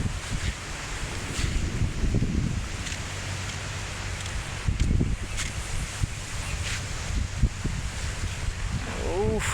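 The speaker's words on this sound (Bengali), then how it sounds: "উত্তরা বাতাস বইতেছে।" Wind gusting outdoors along a road under a cloudy sky just before rain, a steady broad rush with louder swells, while voices talk over it.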